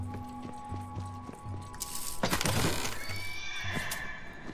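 A horse neighs loudly in the middle of the Tiny Tina's Wonderlands video game soundscape, with light clip-clopping hooves and a steady background hum around it.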